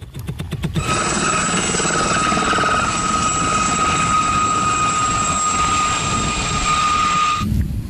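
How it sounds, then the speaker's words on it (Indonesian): An air force helicopter roars loudly and close, rotor thumping at first, then a steady whining turbine drone that holds for several seconds before cutting off. "kita menemukan helikopter angkatan udara"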